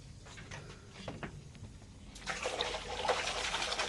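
Water leaks from a butterfly valve on a chiller unit, a faint trickle that swells into a louder, hissing rush of spraying water in the second half.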